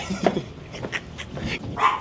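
Dogs bark and yip in a street in Naples, several short sharp barks close by in an uneven run among street noise, with no talk.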